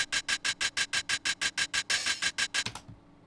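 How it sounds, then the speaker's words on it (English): Open hi-hats from a synthwave track, about sixteen bright, hissy hits in a steady even rhythm, each ringing briefly before being cut, played alone and ending with a short fading tail. "Open hi-hats. They sound like this."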